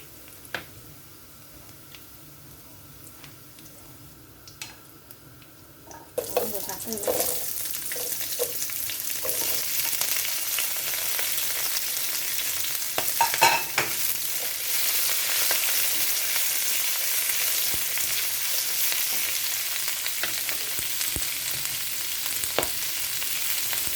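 Chinese kale and crispy pork stir-fried in a pan: after a quiet start, a loud, continuous close sizzle breaks out and stays strong, with occasional stirring clatter and no talk.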